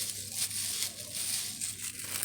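A plastic bag is handled up close during pickle-making, producing continuous crinkling and rustling with small crackly bursts throughout, with no talking.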